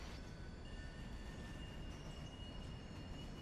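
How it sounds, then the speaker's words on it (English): A passenger train rolls into an interchange in the Railroader video game, a continuous broadband rumble with faint high wheel squeal, steady and moderately distant, with no speech. "Okay, passenger train, why are you coming into the interchange?"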